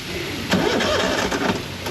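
The starter on a Ural sidecar motorcycle with a faulty starter cranks the engine briefly and loudly up close, a rough churning whir that surges for about a second and a half.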